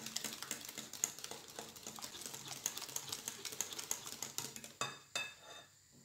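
A whisk or spoon beating cake batter with oil and a glass of sugar in a bowl for a pineapple cake, giving quiet rapid rhythmic clinks against the bowl that end with a couple of louder knocks.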